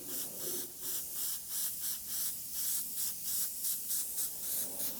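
A spray gun hisses in quick regular bursts, about ten short pulses, applying a water-based intercoat to a Trek Madone bike frame, close and steady with no talk.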